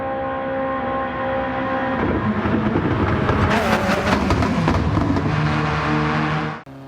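Alfa Romeo Sprint, a classic sports car in Gran Turismo 7, racing a lap of the Nordschleife, engine droning and revving up through gears with shifts, steady and prominent with no voices.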